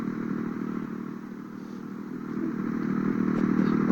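A Falcon motorcycle engine in a Brazilian motorcycle video game, running as a steady low drone that builds slightly toward the end, with no talk over it.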